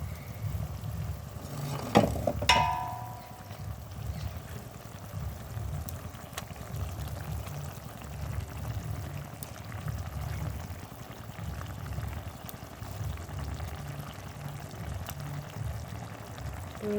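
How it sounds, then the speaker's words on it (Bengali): Bengali fish curry broth boils in a pot as tangra and lata fish are added, a steady low bubbling throughout with a brief louder splash near the start and no talking. "খুব সুন্দরভাবে ঝোল ফুটে যাচ্ছে।"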